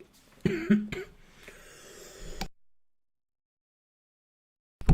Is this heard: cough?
yes